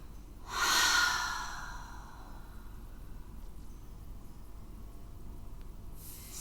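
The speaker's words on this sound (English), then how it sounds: "Find a big inhale." A deep, audible inhale during a prenatal and postnatal yoga flow swells close and clear near the start, then fades into a steady, quiet room.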